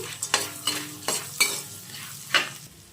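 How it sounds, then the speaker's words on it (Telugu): Garlic, dried red chillies and curry leaves fry in hot oil in a pan, a constant sizzle broken by several sharp stirring scrapes spaced across the moment, close and clear. "ఎండుమిర్చి కరివేపాకు వేసుకుంటున్నాం ఒకసారి బాగా ఫ్రై చేసుకున్నాము"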